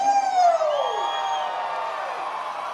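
A loud crowd at a fight event in Great Falls, Montana cheers and whoops, with a rising-then-falling shout at the start fading into sustained cheering noise.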